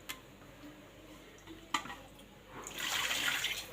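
Water running and splashing into a jar as it is rinsed and filled in a home kitchen while cooking crab curry, a brief clatter first, then a steady rising pour toward the end, close and moderately loud.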